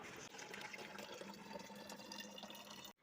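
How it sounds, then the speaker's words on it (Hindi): Tap water pours steadily into a bottle being filled at home for the fridge, a continuous close splashing rush that runs for about three seconds before cutting off abruptly. "थोड़ा बहुत पानी भर के फ्रिज में रखना है, मैं पानी भर लेती हूँ"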